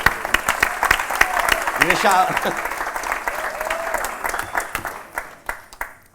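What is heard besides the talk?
audience applause at a Q&A event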